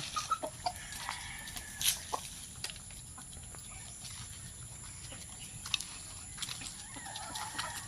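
Chickens clucking in the open, with intermittent calls and small squawks over a faint background hum and scratching.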